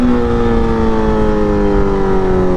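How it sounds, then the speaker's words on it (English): A 1000cc liter-bike motorcycle engine at about 40 mph gives a loud, close, steady roar as the rider accelerates into a power wheelie. The pitch shifts smoothly through the run, with no talk over it. "I'm going 40 miles per hour. I'm gonna do a power wheel with you."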